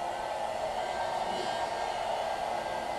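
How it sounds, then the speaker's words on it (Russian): Heat gun blowing hot air onto the window pillar of a Hyundai Santa Fe while fitting window deflectors, a steady close whooshing hum with no talk. "фен строительный и аккуратненько издалека прогреваем стойку"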